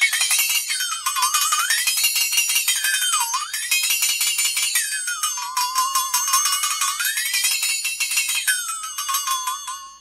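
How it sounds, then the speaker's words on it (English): A flexitone, a flexible bent metal percussion instrument, makes a cartoon-like rattling tone whose pitch swoops up and down in wavering bends, continuous, close and loud for the whole stretch. "This is a flexitone."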